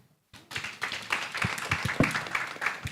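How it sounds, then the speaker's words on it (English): Applause from a crowd starts after a brief silence, dense clapping building and holding steady with a few sharper claps standing out. "Can we clap bigger?"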